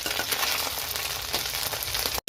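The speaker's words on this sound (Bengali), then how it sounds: "কড়াইয়ের মধ্যে তেল দিয়ে আবার করে ডিমগুলোকে ভেজে নেওয়া হচ্ছে।" Boiled eggs fry in hot oil in a wok, a steady crackling sizzle with small pops, close and continuous before cutting off abruptly at the end.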